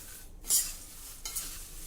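Poha gets stirred in a pan, with a few scraping sweeps of a spoon over soft background sizzle; two brief, bright scrapes stand out, and no voices are present.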